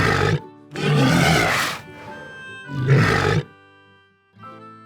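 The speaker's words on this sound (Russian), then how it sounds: "Морж." Walrus calling with loud, deep roaring bellows, three long blasts separated by short pauses, then a fainter grunt at the end over light background music.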